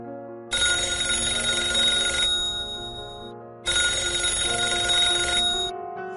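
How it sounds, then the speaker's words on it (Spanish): Telephone bell rings loudly in two long bursts separated by a short pause, a bright sustained electronic trill with no voices present. "2 días después, suena el teléfono de Carlos."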